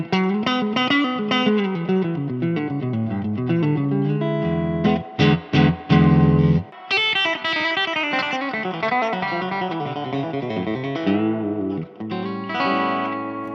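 A rare 1950s Fender Stratocaster electric guitar rings out with the reverb maxed, sustained chords and notes washing into a long echoing tail, with a few sharp staccato stabs midway before the lush wash returns.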